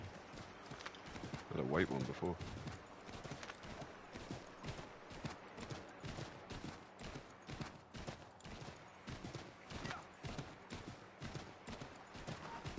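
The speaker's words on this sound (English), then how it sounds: "Oh look, it's a new horse." Horse hooves clip-clop in a steady walking rhythm in the video game Assassin's Creed 3, fairly close and continuous, while someone talks over them.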